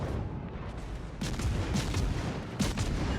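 Warship guns in World of Warships, a US light cruiser taking fire from other ships, boom in several heavy, rumbling bursts over a continuous low battle roar with no talk.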